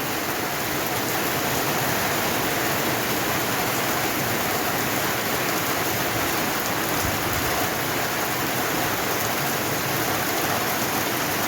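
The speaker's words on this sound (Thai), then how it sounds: "เอาบรรยากาศ ฝนตกมาฝากเนาะค่ะ" Steady rain pours down in a continuous, dense hiss, loud and close, with no pauses or voices across the whole stretch.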